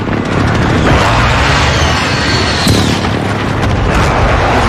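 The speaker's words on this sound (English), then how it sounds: "Allied cluster strike inbound." Loud, booming cluster airstrike explosions in Call of Duty, a continuous heavy rumble of overlapping blasts with a few sharper bursts, close and dominant.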